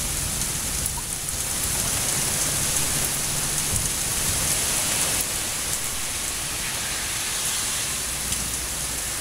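Steady rain pours down during a light thunderstorm, a dense continuous hiss of drops on surfaces filling the whole stretch, fairly loud and close, with no voices.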